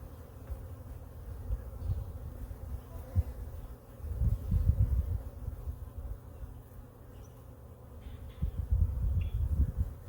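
Honey bees drone in a low, steady buzz at an opened hive during a hive split, swelling in louder waves close by without any talking.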